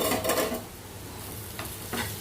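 Capsicum stirred with peanut chili powder in a frying pan, a steady close scraping and stirring with faint sizzling underneath, two brief louder scrapes near the end.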